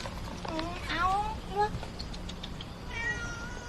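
House cats meow repeatedly in short rising and falling cries, close to the microphone, while people talk and one voice imitates the meowing.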